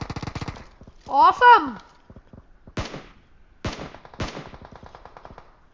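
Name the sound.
gunfire in a video game gun game mode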